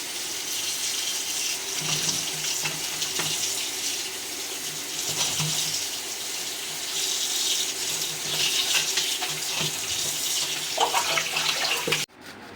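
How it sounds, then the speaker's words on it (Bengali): Running tap water pours steadily over drumstick (moringa) leaves as they are washed in a kitchen sink, a close, continuous splashing gush that cuts off abruptly at the end. "পাতাটা খুব ভালোভাবে বেছে নিয়েছি, এখন এটা খুব ভালোভাবে ধুয়ে নিচ্ছি।"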